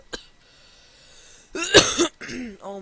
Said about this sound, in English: this cough is very bad